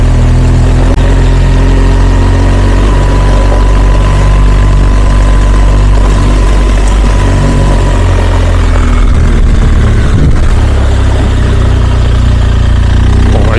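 A motorcycle ridden along a mountain corniche road in the French Alps toward the Vercors, its engine droning loud and close throughout with shifting pitch, and wind rushing over it.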